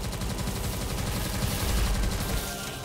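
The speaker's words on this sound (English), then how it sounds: "Faster shooting." Continuous rapid gunfire from the PC video game Tesla vs Lovecraft, a loud dense fusillade of shots sustained for a few seconds with no talking.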